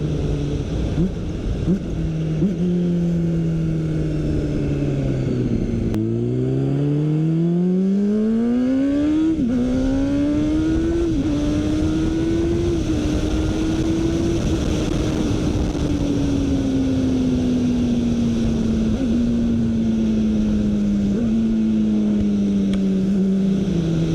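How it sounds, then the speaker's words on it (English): A loud, revving Honda CBR600RR sport motorcycle engine with a slip-on exhaust drones steadily, its pitch rising sharply then settling into a buzzing hum that wavers up and down, close by with no talking. "This bike sounds pretty good too."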